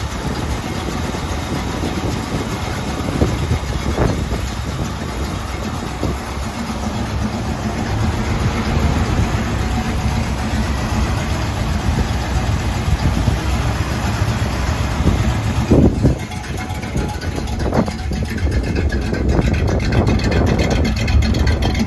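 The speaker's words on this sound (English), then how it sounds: "we're gonna get the engine cranked." A 1928 Ford Model A engine cranked over and settled into a steady idle, a continuous close-up low rumble that holds at an even level for the full stretch, with no talking over it.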